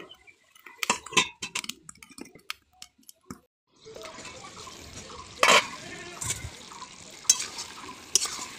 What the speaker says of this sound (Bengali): এবার একটু জল দিয়ে, বেশি জল দেবো না, একটুখানি দেবো, ঢাকা দিয়ে দেবো।